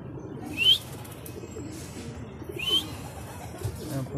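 Trained racing pigeons return to their loft, with short wing flaps and soft bird calls at moderate distance over steady outdoor background noise, and no talking.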